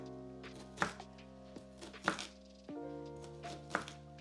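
A knife cuts vegetables into thin slices on a board, three distinct, firm chopping thunks spaced about a second apart, close up, with faint low hum between strikes and no speech.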